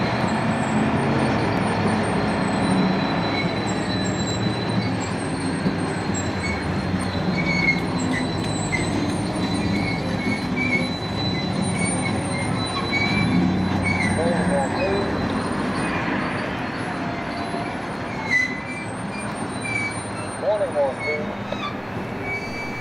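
A welded rail train drops rail while stopped, with loud, sustained screeching wheel squeal and a rumbling train under it. Radio chatter and voices come and go throughout.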